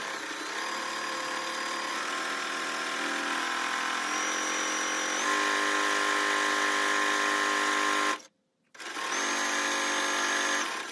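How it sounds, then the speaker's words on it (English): A sewing machine runs steadily, stitching a fabric strap: a continuous whirring motor drone pivots, breaks off briefly near the end, then resumes sewing. "lift up the presser foot, and we're just gonna pivot across and then sew all the way down"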